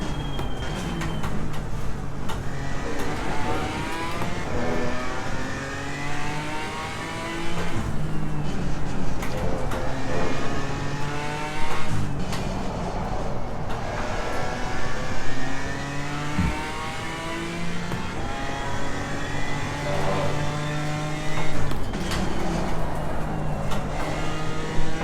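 BMW M4 GT4 race car engine in Assetto Corsa Competizione, revving hard through repeated rising pulls with gear changes and throttle blips, loud and close throughout.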